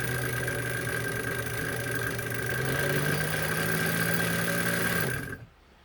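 Kenmore 117.95 sewing machine winding thread onto a bobbin with the needle clutch disengaged, a steady close motor hum and whine that rises slightly in pitch and then stops abruptly near the end.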